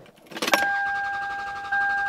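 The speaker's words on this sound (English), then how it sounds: "Time to get in my car." Someone gets into a car: a door clunk and rustle at the start, then a steady electronic chime tone that carries on alone, close and fairly quiet.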